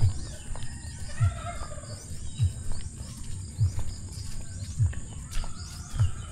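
Chickens on a grassy farm plot cluck and crow at a moderate distance, with a steady run of low, evenly spaced pulses about once a second beneath them and faint outdoor background noise.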